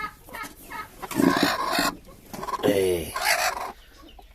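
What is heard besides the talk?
broody hen clucking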